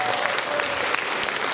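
An audience applauds at the Blagadaryu charity concert in Tula, giving dense, steady clapping from many hands in a hall that fills the moment, with a faint voice beneath.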